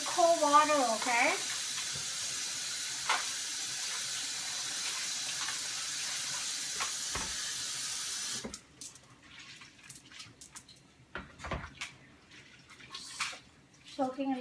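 Cold tap water runs steadily into a sink while noodles are rinsed for Pad See Ew, a faint, even stream that stops partway, followed by quiet clinks and handling sounds.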